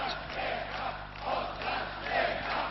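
Demonstrators in Warsaw in 1982 jeer and chant at the militia, a dense crowd roar that swells and ebbs in broad waves with no single voice standing out.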